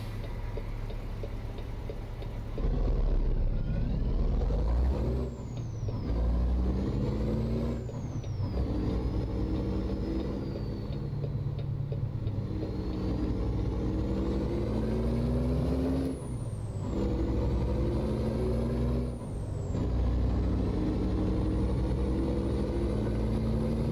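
Detroit Diesel Series 60 engine running at 600 horsepower in a 1998 Peterbilt truck within American Truck Simulator, a deep continuous diesel drone that rises and falls through gear changes, with brief air-brake hisses.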